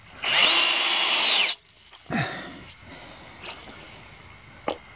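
Power drill driving bolts into brackets while building a pickup truck animal carrier: one loud, steady whir of just over a second, then quieter clanks and handling knocks.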